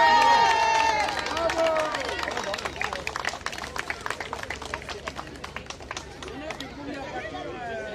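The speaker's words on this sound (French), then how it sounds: "On peut les applaudir plus fort," Crowd clapping at an outdoor road-safety fair, starting under a loud voice and then settling into a busy patter of many hands mixed with chatter and background murmur.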